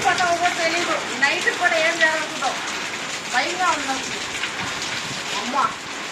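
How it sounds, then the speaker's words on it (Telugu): Steady heavy rain in Nellore hisses throughout, loud and continuous, with a person talking over it in bursts. "నాకు తెలిసి నేను చిన్నప్పటి నుంచి ఇటువంటి వాన నేనైతే చూడలా"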